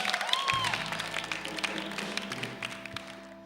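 Studio audience applause on a talk show, a short burst of clapping that starts loud and fades steadily over a few seconds, heard alone without talk.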